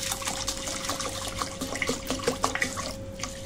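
Water pours from a tap over a bowl of urad dal set to soak for dosa batter, a steady close rushing stream with small splashes and drips throughout, no voices.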